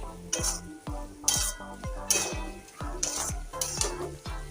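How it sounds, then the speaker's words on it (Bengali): Cabbage curry with moong dal and potatoes is stirred in a pan: a steady series of scraping, clinking spoon strokes against the metal, with a soft sizzle underneath and no talking. "এবার ভালো করে শুধু নাড়ব"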